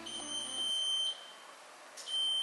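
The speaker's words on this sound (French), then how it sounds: "Ça sonne 2 minutes trop tôt, j'ai mis le mauvais timer, genre ça s'est mis tout seul sur mon four." An oven's built-in timer beeps in a kitchen with a steady high-pitched electronic tone, sounding loudly, stopping briefly, then starting again near the end. No one speaks.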